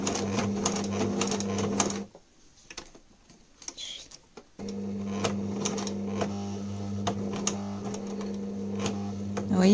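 A sewing machine stitches a fabric protective mask with a steady, close mechanical whir. The machine stops for about two seconds, leaving only faint ticks, then runs on at the same pace.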